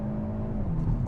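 A 2022 Hyundai Elantra N accelerating hard in N Grin Shift mode at max power, its engine a loud, close, sustained roar with a steady droning tone.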